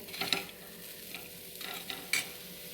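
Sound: leftover boondi stirred on hot griddle

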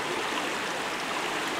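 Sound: mountain river stream flowing near its source

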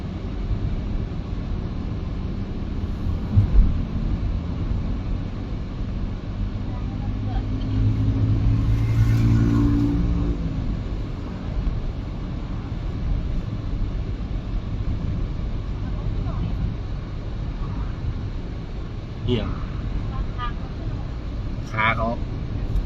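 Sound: car driving on road

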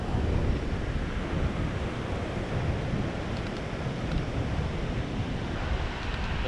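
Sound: ocean waves washing over rocks at Cape Arid

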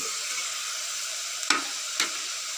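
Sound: onions sautéing in a pan

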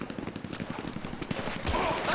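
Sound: gunfire in video game GTA 5

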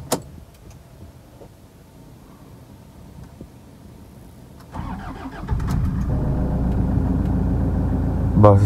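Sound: car engine starting and running

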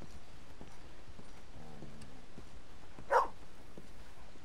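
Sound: dog in Red Dead Redemption 2 video game

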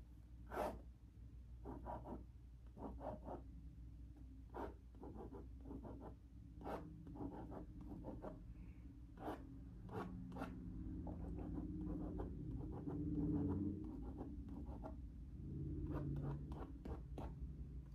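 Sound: drawing with a pen on a paper pad

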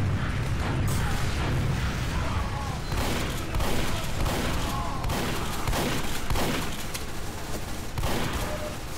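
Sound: pistol gunfire from a scout in video game Team Fortress 2

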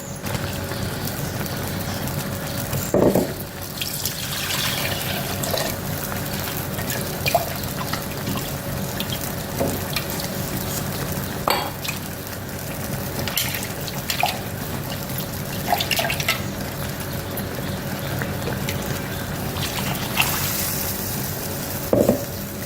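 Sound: water poured into mixer jar

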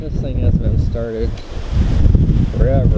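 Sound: wind blowing outdoors in cold weather

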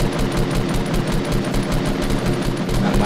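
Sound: gunfire in the video game Fortnite

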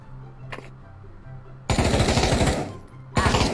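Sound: gunfire in the VR video game Pavlov

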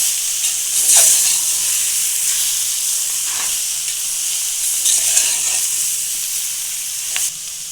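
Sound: tempering spices sizzling in oil

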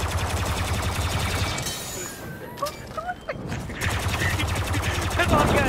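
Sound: gunfire in Star Wars Battlefront 2 video game

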